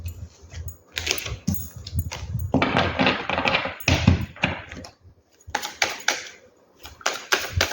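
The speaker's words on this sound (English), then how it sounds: "There are too many cards. I would like to shuffle again." Tarot deck being shuffled by hand, with bursts of riffling and slapping cards in uneven clusters, close and fairly loud, with short pauses between passes and no talking.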